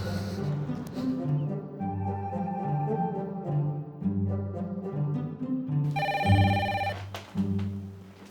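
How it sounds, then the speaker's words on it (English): Telephone rings with a steady repeating electronic bell pattern, loud and close, continuing for several seconds over a soft music bed with no talking. "Oh, you didn't look at the phone and say, uh-oh, it's Elise"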